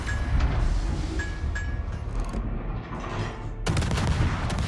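Naval guns firing in a warship video game, with booming shots and rumbling blasts over a constant low roar, a sharp burst of loud reports near the end, and faint tonal pings in between.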